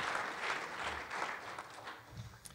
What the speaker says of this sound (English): can we all give Royce a round of applause?